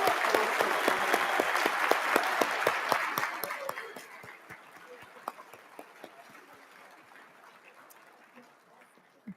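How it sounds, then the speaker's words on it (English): An awards dinner crowd gives the awardees a round of applause, loud dense clapping that thins to scattered claps and fades out over several seconds. "just another round of applause for all of our awardees."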